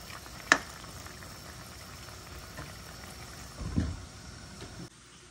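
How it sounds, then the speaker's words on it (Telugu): Andhra-style okra (bendakaya) pulusu with tomato pieces simmering in a pot, a faint, steady low bubbling with two brief louder knocks or clinks. "పులుసు చూడండి ఎంత మరుగుతుందో"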